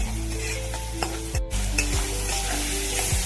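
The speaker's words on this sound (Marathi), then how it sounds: "मीठ अगोदर घातल्यामुळे काय होतं कांदा टोमॅटो छान असं शिजून येतो" Onion and tomato with salt cooking in a pan for a simple gavar (cluster bean) curry, with a continuous close sizzle, a low hum underneath and a few scraping stirs, no voices.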